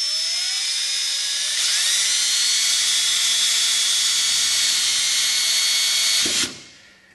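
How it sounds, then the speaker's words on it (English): A power drill bores a very small hole through a metal clamp into a sleeve on an Affordaplane ultralight build. It makes a steady, close, high-pitched whine that holds for about six seconds, then cuts off and winds down abruptly. "I'm going to drill a very small hole."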